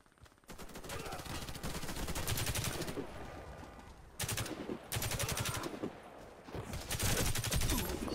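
Rapid bursts of automatic gunfire crackle loudly in the video game Warface, in dense volleys with short pauses between them during a free-for-all match.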